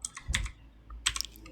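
Fingers tap out a shell command on a computer keyboard in a Linux Ubuntu terminal, two quick bursts of close, crisp keystrokes separated by a short pause, with no talking.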